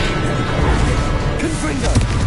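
Incendio fire spell cast in the Hogwarts Legacy video game: a dense, roaring burst of flame with crackling impacts, loud and continuous across a short span, amid busy game noise.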